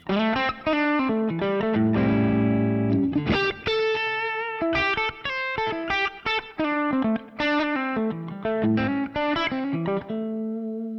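Overdriven electric guitar through a modeled Dumble ODS-style amp with a Marshall tone stack, playing a melodic line with chords, warm crunchy distortion, sustained notes and brief pauses, loud and close.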